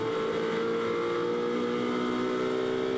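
A Ferrari 458 race car engine at Silverstone, heard onboard as a steady, loud mechanical drone with strong harmonic tones, sustained throughout without a break.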